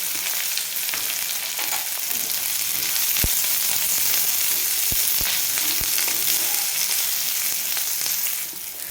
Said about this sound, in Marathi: की आपल्याला याच्यामध्ये टाकून घ्यायचा आहे कांदा आणि कांदा आपल्याला लाल करायचा नाही फक्त नरम करायचा आहे